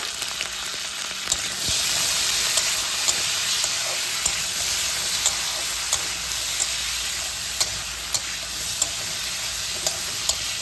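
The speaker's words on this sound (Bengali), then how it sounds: "তেল গরম হয়ে গেছে দিয়ে দিচ্ছি কুদ্রিগুলি লবণ" Ivy gourd (kundru) pieces fry in hot oil with salt, giving a steady, loud, close sizzle with faint crackles and a few sharp utensil taps throughout, no voices.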